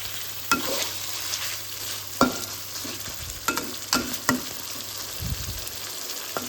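Pork rica sizzles quietly in a pan as it is stirred, with a soft steady fry under scattered scraping and clacking strokes of the utensil at irregular intervals.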